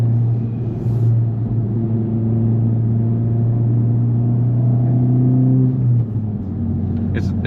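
Steady engine drone and road rumble from a 2025 Honda Civic Type R cruising on a freeway at about 70 mph, heard from inside the cabin, continuous and moderately loud with people talking over it.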